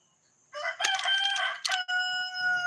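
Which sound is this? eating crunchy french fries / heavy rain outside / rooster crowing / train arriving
rooster crowing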